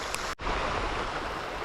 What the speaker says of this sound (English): the small stream with the waterfall into this pool